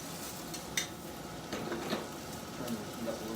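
Brussels sprouts and peppers in a stir fry sizzle quietly in a pan, a steady soft hiss broken by a few faint clinks of a utensil.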